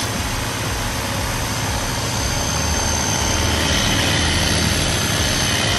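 A Taiwanese EMY-480 lithium battery electric sprayer runs at full power with a loud, steady, continuous motor and pump drone, with no pauses or speech throughout.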